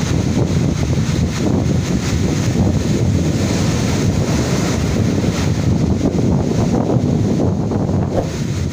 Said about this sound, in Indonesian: anginnya kencang banget